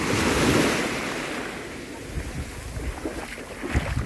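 Surf washes steadily onto the shallow beach of Praia das Palmas in Ubatuba, with its coarse sand. The breaking waves make a broad, continuous rush that is loudest at first, with wind noise and no voices.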